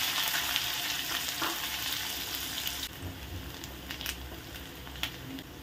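Chopped onions with mustard seeds, cumin and curry leaves fry in hot oil for a dal khichdi tadka, a steady close sizzle that drops slightly midway, with occasional stirring scrapes and no voices.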